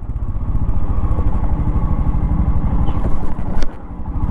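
A Royal Enfield Scram 440, a 2025 adventure motorcycle, runs close by with a loud, steady thumping engine note that flares briefly near the end before settling back to a rough idle.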